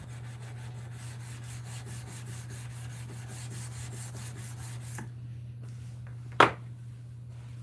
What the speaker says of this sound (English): Hopefully I can get this sanded.